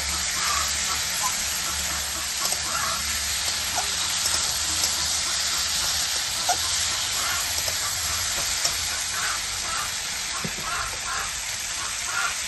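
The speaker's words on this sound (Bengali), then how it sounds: "এখন আমি কিছুক্ষণ নাড়াচাড়া করে তারপরে দিয়ে দেবো ঝোল" Tomatoes, radish and potatoes frying in a pan for a fish curry, a steady rain-like sizzle with scattered pops and stirring scrapes running continuously and close.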